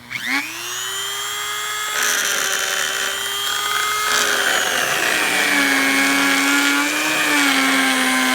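Homemade generator motor whirring up to speed, a close, loud rising whine with stacked tones that climbs sharply in the first seconds, then holds a steady high-speed buzz with small pitch wobbles.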